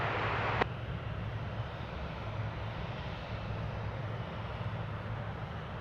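An American Airlines Airbus A321 jet arriving at DFW Airport, coming in from Charlotte, makes a steady, fairly faint broadband roar that holds evenly throughout, after a brief sharp click near the start.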